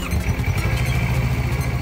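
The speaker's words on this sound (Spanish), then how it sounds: "El sonido indudablemente es el de una potente Kawasaki y, como nos demuestra, alcanza mayores revoluciones sin ningún problema." A powerful Kawasaki motorcycle engine runs close and loud at a steady, slightly raised rev with a rough mechanical clatter, no voices.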